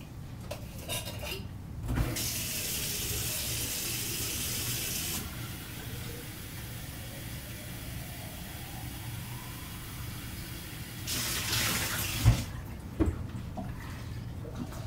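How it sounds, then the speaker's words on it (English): Water tap running as glass jars are rinsed, a steady hiss of flowing water for several seconds, starting and stopping with a few clinks and handling knocks nearby, no speech. "so I just wanted to rinse them out"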